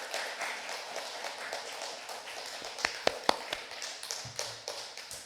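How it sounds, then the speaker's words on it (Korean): A church congregation bursts into dense applause during a sermon, a steady wash of many hands clapping at moderate volume with a few sharper claps standing out near the end. "이럴 때 하나님 박수 한번 쳐드려야 된다"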